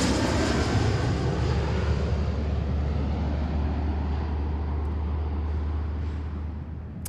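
A Horizon-operated Alaska Airlines regional flight arriving from Pasco passes with a loud low engine drone that slowly fades as it moves away.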